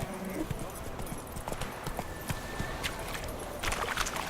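Roach the horse's hooves clip-clop at a steady walking rhythm in The Witcher 3, close and fairly loud over a busy game ambience with scattered clicks and a faint background voice.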